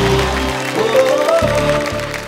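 Audience applause welcoming guests onto the stage at an Indian television awards show, a steady broad wash of clapping lasting a couple of seconds over music in a large hall.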